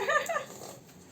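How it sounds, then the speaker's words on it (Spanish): Draco, a dog, gives a brief high whimper at close range that fades into quiet room noise. "Este es Draco, el perro de Mara"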